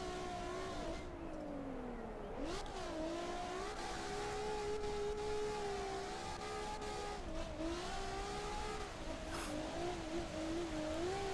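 A car engine in the CarX Drift Racing video game, held in fifth gear and revving steadily with a clear tonal whine that rises and dips as the throttle changes, continuous and close, with no talk.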